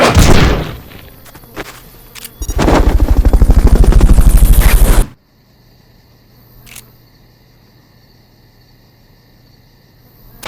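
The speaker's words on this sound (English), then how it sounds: "Fulton recovery to helicopter is complete." Helicopter whirring during a Fulton recovery in the Metal Gear Solid: Peace Walker video game: a loud, steady rotor drone that cuts off abruptly, leaving a quiet hum with a faint blip.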